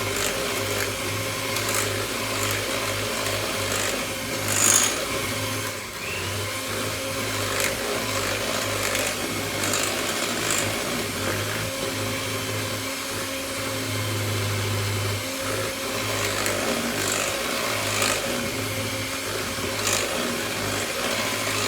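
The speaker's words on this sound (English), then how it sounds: "Pop those straight in and then whisk that in as well." An electric whisk beats eggs into creamed butter and sugar for a lemon drizzle cake, giving a steady, even motor whir that runs unbroken for about twenty seconds with no talking.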